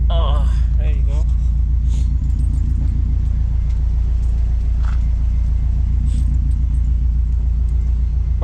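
A 2012 Subaru WRX on lowering springs driving, with a strong steady low engine and road rumble throughout, close and loud, while people talk over it.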